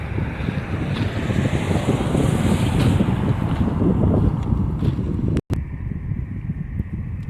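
Boats moving on a still backwater of the Arabian Gulf in Ras Al Khaimah, UAE: a steady, broad rush of water and engine noise with heavy wind buffeting the microphone, continuous throughout apart from one brief dropout.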